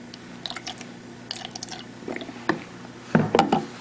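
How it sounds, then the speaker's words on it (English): Deionized water rinses pH meter probes on a lab bench, giving small splashes and dripping sounds in short irregular bursts, close and fairly quiet, with a busier flurry near the end. "We rinse them off with deionized water"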